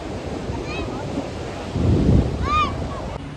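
Sea waves wash steadily onto the Mumbai seashore near a bridge under construction. The surf swells louder around the middle, with faint high whistling tones drifting over the constant roar.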